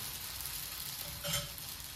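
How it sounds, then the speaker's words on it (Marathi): Barnyard millet thalipeeth roasts in a pan over medium heat, giving a steady, close sizzle with soft stirring scrapes and a brief louder burst near the end. No one speaks. "हे बघा, असं भाजलं पाहिजे थालीपीठ"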